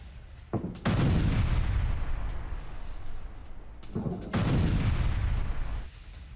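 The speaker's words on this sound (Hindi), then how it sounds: "रिहायशी इलाकों में बारूदी प्रहार किया जा रहा है।" Artillery fire and explosions in a war zone in Lebanon, two heavy booms each followed by a long rumbling roar, loud and dominant with no speech.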